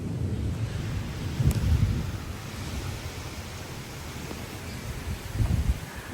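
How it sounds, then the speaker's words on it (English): Gusts of wind of around 60 mph roar through a thunderstorm, a loud, rushing broadband noise buffeting the microphone, with heavier surges near the start and end and low rumbles beneath. "These are like 60-mile-an-hour wind gusts."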